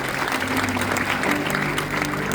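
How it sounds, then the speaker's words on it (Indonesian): A church congregation applauds during a worship testimony, a dense continuous wash of clapping at steady volume, with a low sustained tone underneath. "Tepuk tangan buat Tuhan Yesus."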